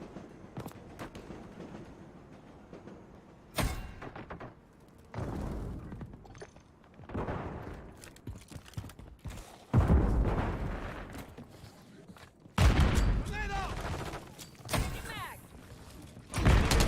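Bursts of gunfire from the Modern Warfare 3 Hardpoint mode come in several loud, separate volleys with quieter stretches between them, under intermittent game radio chatter.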